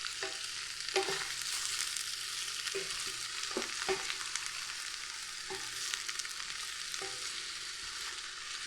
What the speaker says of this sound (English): That sizzle is the sound of possibility.